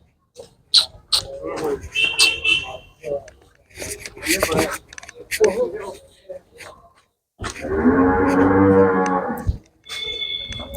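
A freshly calved cow on a Punjabi dairy farm lets out a long, loud moo near the end, after scattered talk, handling noises and a dog barking nearby.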